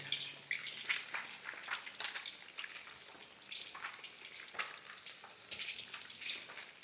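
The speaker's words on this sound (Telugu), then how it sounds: "ఇప్పుడు ముక్క అనేది మంచి రోస్ట్ అయిందాక నిదానంగా కలుపుతూ ఉండండి" Fish pieces fry in a pan while being stirred slowly with a ladle, giving a soft, faint sizzle with scattered crackles and light scraping taps throughout, with no voices.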